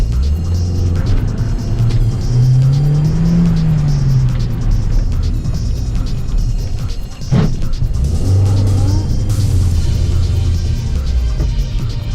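A car engine roars loudly and close during a timed auto test in a storm, revving up through its gears as it accelerates hard, with a brief dip before it surges again.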